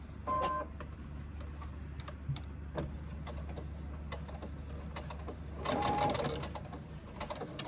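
Sewing machine stitching cotton thread on a sling, running in a steady rapid patter with brief louder bursts near the start and toward the end, close and alone.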